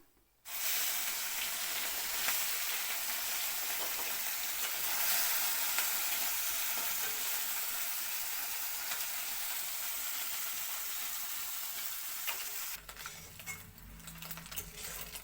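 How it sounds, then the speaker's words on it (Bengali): Mourala fish frying crisp in hot oil for a Bengali tok jhal dish, giving a loud, steady, close sizzle that crackles without pause from start to finish, with no talk. "মাছগুলি উল্টে পাল্টে দিতে লাগবো একটু ভালো করে কড়কড়া করে ভাজা করতে লাগবো মাছগুলি"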